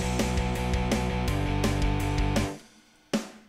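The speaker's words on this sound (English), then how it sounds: "So remember, we were writing snare on beats 2 and 4." Metal drum beat with the snare landing on beats two and four: a steady, punchy pattern of kick and snare hits with ringing cymbals. It plays loudly and alone, then cuts off and leaves one last hit decaying.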